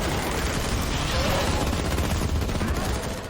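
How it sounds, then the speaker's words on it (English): Hunters firing on a charging human-headed serpent creature in a foggy forest, a dense continuous barrage of gunshots from many directions with a rumbling, blurred wash of overlapping blasts. "Gunfire erupts from every direction until the creature finally collapses."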